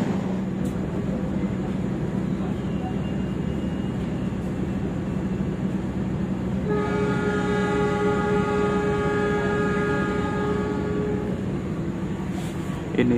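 A Jayabaya passenger train idling at Sidoarjo station before departure, a steady loud engine drone with a bright tonal whine that rises partway through, heard alone without talk.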